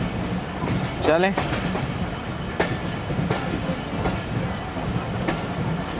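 Ghouri Express 113UP passenger train rolling from Faisalabad toward Lahore Junction in the evening, with steady clickety-clack of wheels on rail joints and a brief squealing sweep, heard from on board as a voice speaks briefly.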